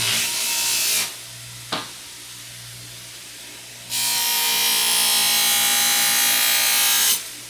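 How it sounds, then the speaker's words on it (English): A bench buffer with a buffing wheel loaded with green polishing compound, used while finishing a hamon blade, whirs loudly with a steady bright hiss that drops away, a brief contact scrape, then a long sustained run of the wheel, no talk. "Kick on the buffer. Put some green compound on here."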